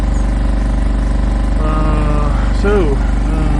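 A fishing boat engine gives a steady low drone with a regular throbbing rhythm, close and loud, running throughout, on the Rance near Saint-Malo bay.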